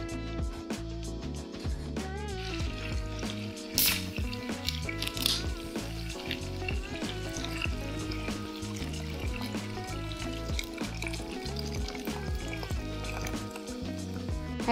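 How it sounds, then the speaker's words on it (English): Coca-Cola pours into a pan of braised pork, giving soft liquid trickles, drips and squishy bubbling that run steadily throughout at a fairly quiet level, over faint background music. "I added 2 cans of coke since I'm cooking 2 portions this time"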